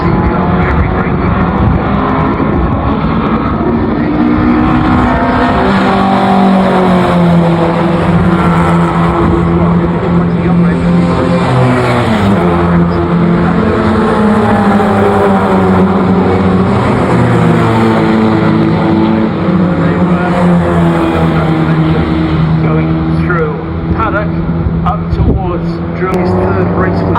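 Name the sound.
TBR race car accelerating at Brands Hatch circuit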